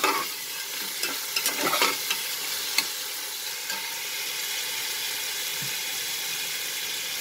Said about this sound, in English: Fry the dal like this for 1 minute.